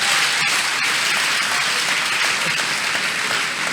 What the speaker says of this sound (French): Acclamez pour mon frère s'il vous plaît